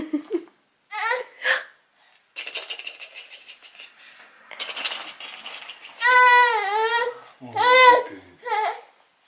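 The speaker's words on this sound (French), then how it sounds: "Mais là, je sais même pas pourquoi il pleure." An infant cries in a home on a quiet Sunday, in short broken wails and whimpers with pauses between them, growing into longer rising cries toward the end, close and fairly loud.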